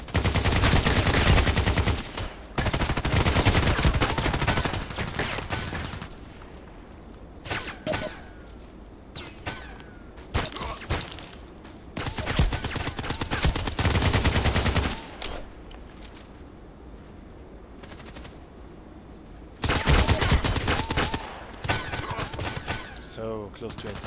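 Machine gun firing in a sniper video game, several long loud bursts of rapid automatic fire separated by quieter gaps, with a voice talking in between.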